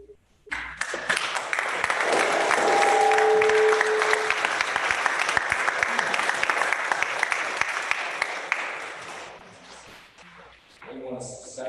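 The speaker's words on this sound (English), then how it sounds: "possibly we would consider giving him a round of applause" A commissioners' court gives a round of applause: a sustained burst of clapping rises quickly, holds steady for several seconds, then fades out, with a faint voice near the end.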